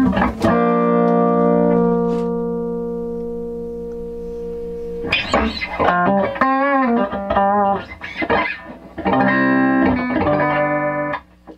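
Distorted electric guitar through a Tweedle Dee Deluxe overdrive pedal: chords ring out and sustain, then a burst of quicker notes and bends, crunchy overdriven tone.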